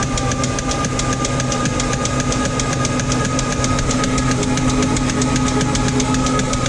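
A supercharged, cammed Ford Coyote V8 in a Fox-body Mustang cranks over with a steady, fast rhythmic churning and a constant loud mechanical drone, with no voices over it.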